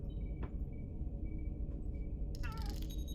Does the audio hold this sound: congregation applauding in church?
no